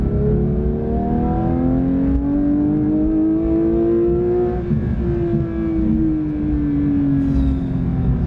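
A manual GT3 sports car engine revs hard toward its 9,000 RPM limit, its pitch climbing smoothly then dipping and rising again, loud and close throughout.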